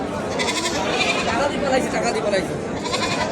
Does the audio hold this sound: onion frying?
no